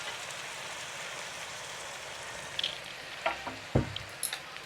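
Water splashes into a pan of fried singi fish being cooked bhuna-style, setting off a hissing, rain-like sizzle with a couple of sharp knocks of a spoon against the pan toward the end.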